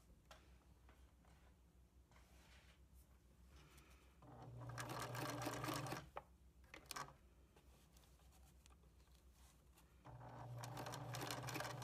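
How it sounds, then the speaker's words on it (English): A sewing machine stitches slip cover fabric in two steady runs of rapid mechanical clatter, separated by a quieter pause with fabric handling and a few brief clicks. "fold it over like that, and then continue stitching."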